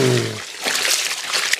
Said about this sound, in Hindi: एक टप पानी भर दिए, अब इसको यहीं पर उझाल देंगे